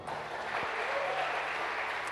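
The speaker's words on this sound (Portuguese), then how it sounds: "Aplauda ao Senhor." A church congregation claps together in a steady, fairly soft wash of applause that lasts about two seconds with no break.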